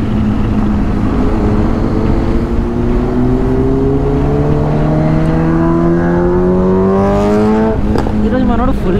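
A Hero XPulse 210 motorcycle ridden fast, its engine note climbing steadily under hard acceleration and held loud and close throughout, with wind rush and a brief shift near the end.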